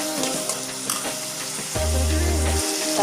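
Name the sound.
tomatoes sautéing in a pan for prawn thokku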